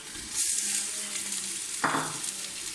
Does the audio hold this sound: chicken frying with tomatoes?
yes